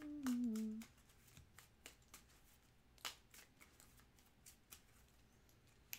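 Cards for the Trails of Tucana board game are shuffled in quiet, close bursts of riffling and soft taps, with a brief voice at the very start.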